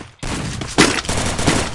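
Twelve-gauge shotgun blasts go off in a video game, a rapid run of loud, booming shots close together after a brief silence.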